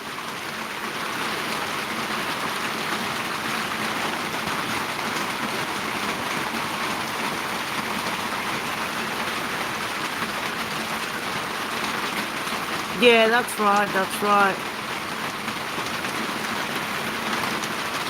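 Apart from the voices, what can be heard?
heavy rain in Melbourne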